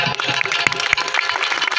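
A crowd at a Gujarati folk dayro gives a short burst of lively applause, a dense patter of many hands clapping fairly close. It runs steady for the whole moment with no break.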